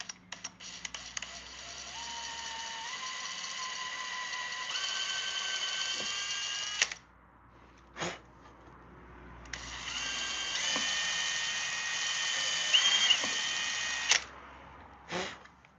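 A power drill drives a screw into the leg of a wooden board with long whining bursts that ramp up in pitch, a pause, a short burst, then another long run, all loud and close.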